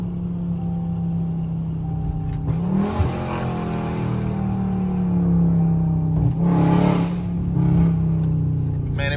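Dodge Charger Scat Pack fitted with catless mid pipes, its engine rumbling steadily with two sharp revs that rise to a loud roar and then settle back, recorded close by.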